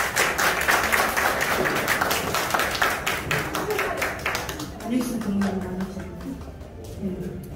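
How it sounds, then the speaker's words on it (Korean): Clapping from the audience at a Rotary Club officer installation ceremony in Gwangju, a crisp rapid patter of hands that fades out as murmuring voices take over in the second half. "뜨거운 박수 부탁드립니다."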